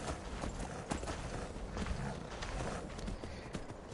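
Horse hooves clip-clop in Skyrim, a steady run of soft, close hoofbeats layered over constant game ambience and background noise.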